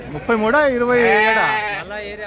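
A sheep bleats loudly and up close in one long wavering call at a sheep market, followed by a shorter second bleat.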